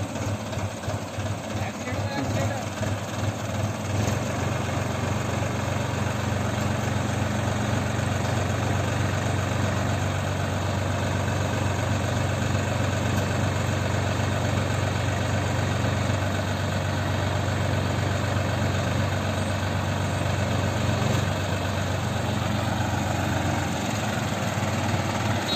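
A pole erection machine's engine idles steadily with a low, even rumble and vibration that continues throughout, loud and close, while people talk over it.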